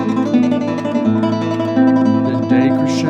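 A classical guitar plays the tremolo melody of Tárrega's Recuerdos de la Alhambra, with a continuous stream of plucked notes over bass notes, swelling gradually in loudness, with no talking.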